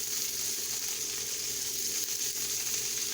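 Bacon strips for a Luther burger sizzle quietly in a pan, a soft, even crackling hiss that holds steady throughout without talking.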